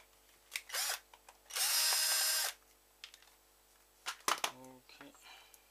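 A screwdriver works loose a tight screw while a Razer Taipan mouse is taken apart for repair, giving a few short, close scraping and creaking bursts alone on a quiet bench.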